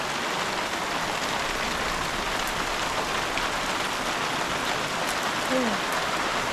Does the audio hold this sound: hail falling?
yes